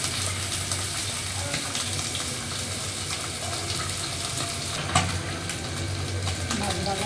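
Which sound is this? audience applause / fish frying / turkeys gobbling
fish frying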